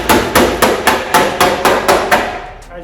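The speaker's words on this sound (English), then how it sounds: "I'm just going to get a hammer and I'm just going to start knocking it" A hammer knocks out a dent in a car guard in about nine sharp, evenly spaced metallic strikes, each ringing briefly before the next, close and loud with no talking.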